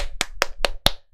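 Five sharp, evenly spaced hand claps ring out close and loud in a quick steady rhythm, then stop.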